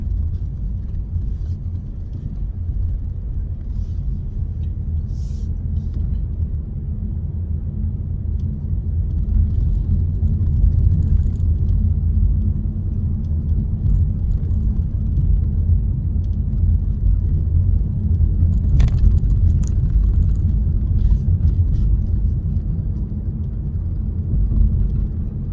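Car interior rumble while driving on a road in Malaysia near the Jalan Tuaran bypass, a steady low engine and tyre drone that swells slightly midway, with faint occasional clicks and no talking.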